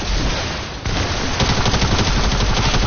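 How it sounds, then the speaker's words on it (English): A quad rocket launcher in a video game fires in a dense, loud, continuous barrage of blasts and booms, with a brief dip before the roar resumes. "I'm just gonna rocket launch this entire thing"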